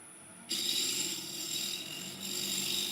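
A scraper cuts a wooden bowl turning on a lathe, starting with an abrupt close rasping scrape that holds steady for a few seconds over the machine's hum.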